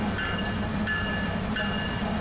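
A freight train led by a single GE ES44AC diesel locomotive rolls past in Monroe with a steady, loud rumble and faint squealing tones on the rails, with no voices.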